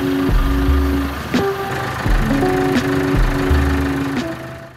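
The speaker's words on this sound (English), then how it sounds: "he came up with the work tractor" A work tractor's engine runs close by on a snowy site while it tows a van. It gives a steady low rumble with rhythmic knocking pulses and recurring clanks, and no one speaks.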